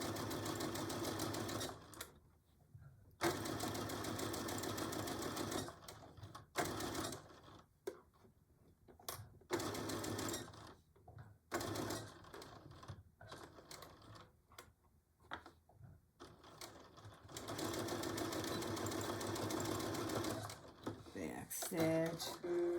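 Domestic sewing machine stitching a Betty Boop pillow cover panel, running in steady rapid bursts that stop and restart several times, with short pauses between runs and some handling noise.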